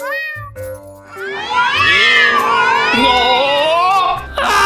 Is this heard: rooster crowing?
no